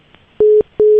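A telephone disconnect tone sounds as two loud, steady beeps of equal length with short gaps between them, clean and alone with no voices.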